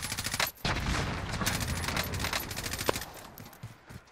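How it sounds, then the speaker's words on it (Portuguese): Rapid automatic gunfire rattles in dense bursts in the video game Warzone, loud and continuous with a brief pause and a few sharper single shots toward the end. "Tomando tiro."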